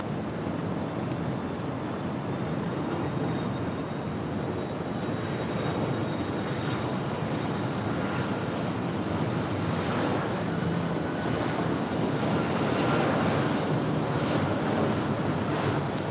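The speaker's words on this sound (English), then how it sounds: "That is Delta Airlines flight 1057 coming in from JFK. It's a 767-300ER." Delta Air Lines Boeing 767-300ER arriving at LAX from JFK, a steady broadband jet roar with a faint engine whine, sustained and fairly distant, mixed with wind noise, no voices.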